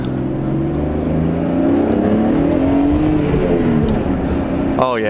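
A Nissan Skyline R32 GTS-T accelerates on a drive after a wiring harness install, its engine note climbing steadily in pitch and loudness from inside the car, with a brief sharp noise near the end.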